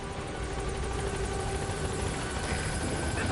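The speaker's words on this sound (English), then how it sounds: "I'm gonna get on the chopper because I'm tired of listening to that from here" A helicopter arriving in Metal Gear Solid V: The Phantom Pain makes a constant, fairly loud rotor drone and engine whine that holds evenly across the moment, with no voices.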